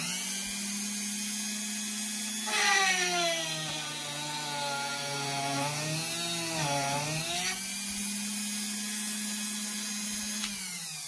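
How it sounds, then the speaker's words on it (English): An electric drill whines steadily while boring a hole for a peg in an axe handle, its pitch dipping under load a couple of times before rising again, close and continuous. "electric drill to make the hole wide enough for the peg material to go into."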